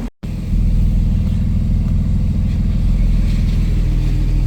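Porsche 991 Turbo tuned past 650 hp idles and revs with exhaust valves open, a loud, close, steady deep rumble after a brief cut at the start, with no talking.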